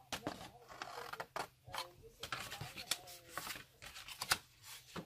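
Scissors cut paper for a homemade storage box, giving short crisp snips and rustles in an irregular rhythm, close and quiet, with speech mixed in among the cuts.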